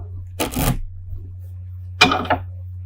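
Tarot cards shuffled and drawn during a love reading, heard as two short, crisp riffling bursts separated by a quiet pause, over a steady low electrical hum.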